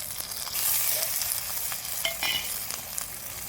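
Ground ginger-garlic paste sautéing in hot oil for a chicken curry: a dense, continuous crackling sizzle with scattered spatters and light stirring touches, near and steady throughout, no speech.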